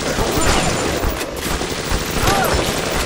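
Sustained gunfire from a Big Daddy in the video game Bioshock, dense rapid bursts filling the whole stretch, loud and close, with a voice talking over parts of it.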